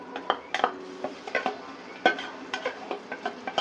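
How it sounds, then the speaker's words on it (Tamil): Ginger-garlic paste going into a pan and being stirred for mutton paya biryani: a string of sharp metallic spoon scrapes and clinks against the pan, irregular and close, with no talking. "இப்போ அம்மா இஞ்சி பூண்டு போட போறாங்க."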